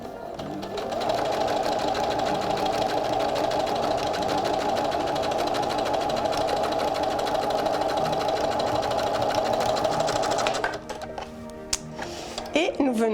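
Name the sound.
sewing machine stitching a French seam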